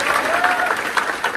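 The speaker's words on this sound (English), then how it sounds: "Applause breaking out earlier in the day throughout the Wall Street Journal newsroom upon learning of Gerskovich's release." Staff in the Wall Street Journal newsroom break into applause, a steady patter of many hands with a few louder claps and a faint voice or whistle rising underneath.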